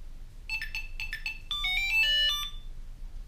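Short bright electronic melody from a Tile Pro Bluetooth tracker during pairing, a quick run of clear chiming notes rising and stepping about, close and fairly loud with no talking.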